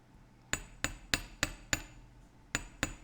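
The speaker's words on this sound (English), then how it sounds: "if you hammer it, that work hardens it." Sharp metallic hammer strikes on metal wire being work hardened, seven distinct blows in a fairly steady rhythm with a short pause before the last two, close and clear with no talking.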